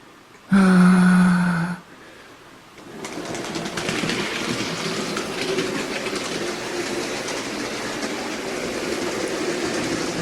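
A loud tone burst starts things off, then after a pause a steady rumbling run of an OO gauge Hornby Black 5 model locomotive builds and continues, with faint rhythmic clatter.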